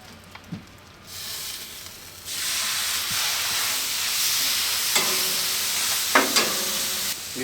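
Shaved steak hitting an oiled griddle made from a converted Weber grill. A loud, steady broadband sizzle builds after a couple of seconds of quieter hiss, with a few sharp pops and crackles near the end.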